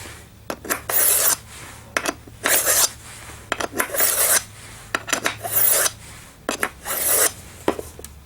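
A GE Carboloy handheld skate sharpener scrapes along a skate blade in repeated rasping strokes, about a dozen bursts of roughly half a second each with brief gaps between, close up and loud with no talking.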